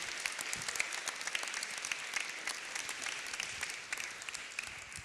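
An audience at an ocean conference claps steadily throughout, a dense, even wash of applause that neither builds nor fades.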